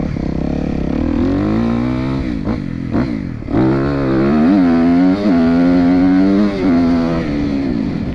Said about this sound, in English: Bike's so fun to ride.